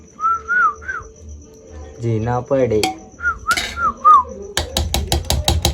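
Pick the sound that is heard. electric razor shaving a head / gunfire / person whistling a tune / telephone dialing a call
person whistling a tune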